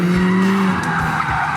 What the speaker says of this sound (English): He skidded from there to there